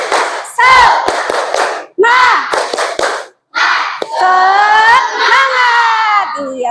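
A classroom of students performs the tepuk semangat chant, young voices calling out together in bursts punctuated by sharp rhythmic hand claps, loud and close, with brief pauses between phrases.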